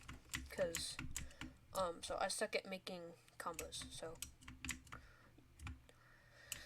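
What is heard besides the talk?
computer keyboard typing and clicking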